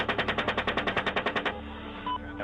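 Gunfire from a US military helicopter: a rapid burst of about fifteen heavy machine-gun shots in quick, even succession, loud and close, then a sudden stop into a low rumbling background.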